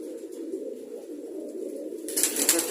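Pet pigeons kept in a room coo indoors in a steady low murmur, with a brighter burst of rustling or wing movement near the end.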